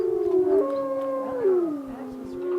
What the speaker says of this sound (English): that's actually a coyote, that screech